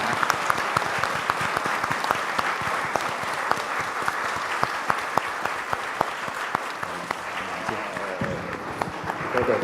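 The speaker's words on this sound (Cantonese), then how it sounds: "我哋俾最大掌聲呢，係鼓勵支持" A church congregation applauds in support of a missionary being sent out, a dense, continuous round of clapping from a crowd at moderate distance, with a few faint voices underneath.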